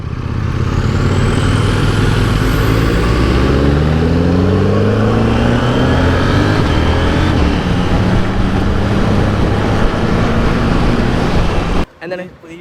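A Ducati 1098S Tricolore motorcycle with an aftermarket exhaust revs loudly at close range, its engine note rising and falling for several seconds before cutting off abruptly near the end.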